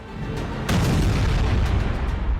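Deep booming rumble from bombs exploding over Tehran in news footage, a heavy sustained roar with a sharper blast partway through and faint cracks after it.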